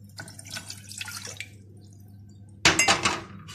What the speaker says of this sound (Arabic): نحط الاول الميه